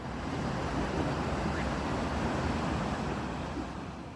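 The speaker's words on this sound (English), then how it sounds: "the waterfall sounds like this" A waterfall rushes in a steady, dense wash of broadband noise, constant and enveloping with no breaks, heard alone.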